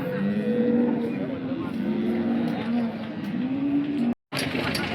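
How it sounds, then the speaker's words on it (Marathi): A cow at a crowded cattle market in Sangola lows in a long, steady, wavering moo that carries over the constant background hubbub of the market. "आता आपण ही गाय कव्हर करतोय."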